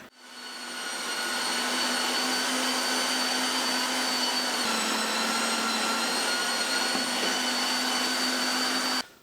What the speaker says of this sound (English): I've got a medium plate on the mincer and I'm just going to whiz everything through